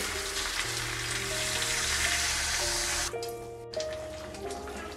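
Sizzling mutton biryani masala with meat and potato in a pan, a dense hiss of frying that cuts off and drops abruptly as a little water goes in, then settles to a quieter bubbling sizzle.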